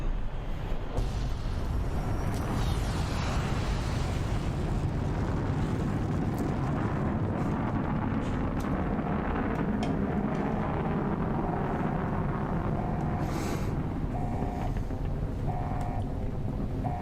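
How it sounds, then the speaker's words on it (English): Fireworks bursting in Fallout: New Vegas fill the scene with a dense, continuous rumble of booming explosions and crackle, loud and sustained throughout with no talking. "now we just sit back, and we get to enjoy the fireworks"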